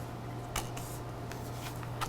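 Tarot cards are shuffled and laid down in a quiet room, a few soft flicks and papery slaps standing out over faint steady background hum.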